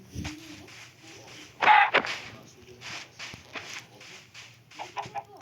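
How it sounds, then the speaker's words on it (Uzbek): Game chicken clucks come in short bursts over busy in-game noise and background chatter, with one louder squawk near the start. "Yana tovuq."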